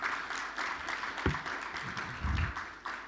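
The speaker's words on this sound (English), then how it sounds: "A round of applause for her one more time." Applause for a speaker at a climate innovation symposium, a soft, diffuse patter of clapping from a seated audience, steady and moderately quiet with a few low thumps.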